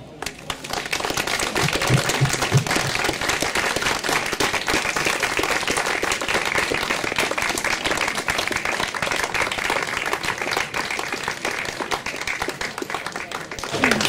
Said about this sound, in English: I'd quite like us to applaud now in a spirit of looking forward.